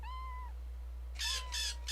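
A cat meows in a Sherlock Holmes video game: one drawn-out meow, a brief pause, then two or three quick, loud, strained meows close up, with no talking.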